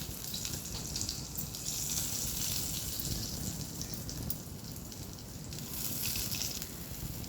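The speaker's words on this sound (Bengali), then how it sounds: "দেখুন, আমি বেগুনগুলো সব এক একটা করে দিয়ে দিই।" Eggplant slices coated in spiced gram-flour batter frying in a pan of oil, giving a steady, soft crackling sizzle that holds at a fairly even level throughout, with no voices.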